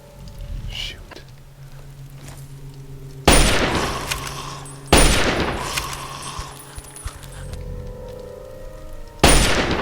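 Gunfire in Fallout 3 at the Ranger Compound: three loud, sharp broadband shots with ringing tails, spaced a second or more apart, rising over a quieter stretch of ambient game sound.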